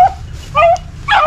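A five-month-old rabbit hound pup baying on scent during spring training, giving three short, loud, close yelping bays in quick succession with brief gaps between them.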